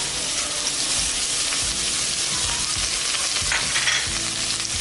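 Sliced onions frying in hot oil in a pan for Tamil-style vada curry, a steady dense sizzle and crackle that carries on throughout, with occasional stirring scrapes and no talking.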